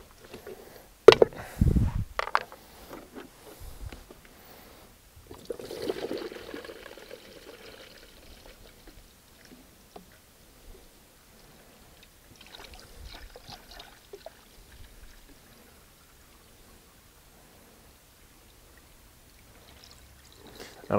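A coolant and water mix, about 4:1, poured from an old screen wash bottle while topping up a Range Rover P38: short, quiet splashy pours in a few bursts, with near silence between them.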